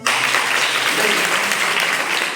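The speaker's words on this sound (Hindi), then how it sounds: "यहाँ पे बजाओ बेटा ताली।" Schoolgirls at a girls' inter college in Titawi clap their hands together in a dense, steady, close round of applause that fills the whole moment without any talk.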